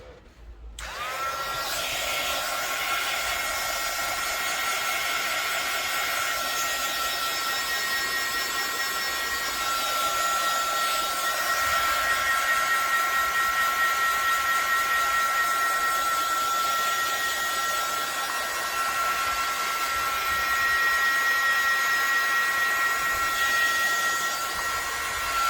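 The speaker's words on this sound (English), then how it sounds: "Yes, you're gonna hear the heat gun." A heat gun runs in a steady, loud, continuous whirring roar for nearly the whole stretch, close up and unbroken, alone without any talk, used while making a Paris-themed planner.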